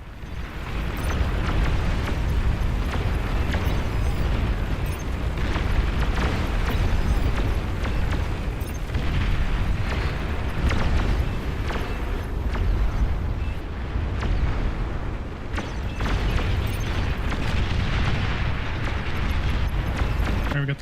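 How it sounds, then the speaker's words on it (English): Explosions from a bombing run in a video game, a dense continuous rumble of booms and bursts that stays loud for the whole stretch, with faint voices underneath. "Nice bombing run, Dave."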